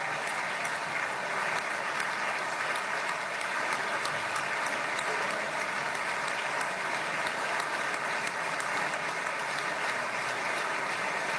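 Standing applause from Knesset members for Israeli military commanders in the Israeli parliament chamber, a dense, continuous wash of clapping that holds steady and loud throughout, with no voices standing out above it.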